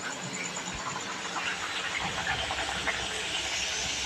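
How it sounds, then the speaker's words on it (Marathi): Thick red pumpkin puri frying and puffing in hot oil, a dense steady hiss of bubbling oil heard close and moderately quiet throughout. "तेल तापलं की त्या छान फुलतात. हे बघा कशी फुलते ती व्यवस्थित"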